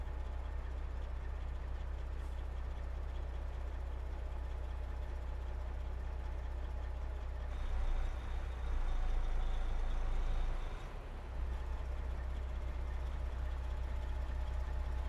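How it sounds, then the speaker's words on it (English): A semi truck's diesel engine idles steadily in American Truck Simulator, a low constant rumble that swells briefly partway through as if the rig is moved out with its trailer, with no talking. "And I'm going to bring my truck and trailer out."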